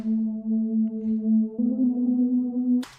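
A soft, sustained synth pad soloed from a trap beat verse, holding a steady tone, shifting pitch once midway, smooth and alone, cut off by a short noise at the end.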